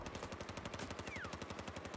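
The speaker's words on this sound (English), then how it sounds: "Oh, something's shooting at me." Rapid automatic gunfire rattles in a Battlefield match, an evenly spaced stream of shots at moderate distance with a brief whistling sweep passing overhead.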